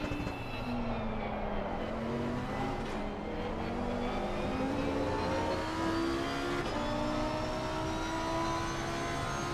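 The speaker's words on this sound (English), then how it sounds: "Clifford in the top performing Lamborghini Huracan Evo against the Evo of the McLaren." Lamborghini Huracan Evo GT3 race car engine in a racing video game at Barcelona, a loud continuous high-revving drone with rising and shifting tones as it climbs through gears, with a McLaren running alongside, no talk.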